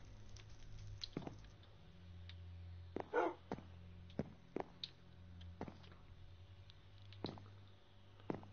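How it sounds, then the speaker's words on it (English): Lava bubbling in the Minecraft video game: scattered soft pops and squishy bursts over a low steady hum, with one denser bubbling cluster midway, fairly quiet and with no talking. "Something's bubbling. This is lava."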